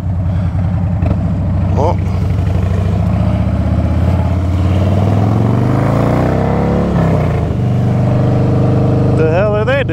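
A motorcycle ridden on a public road pulls away and accelerates, its engine note climbing and shifting through gears loudly and close, with a rider's brief exclamation over the riding noise.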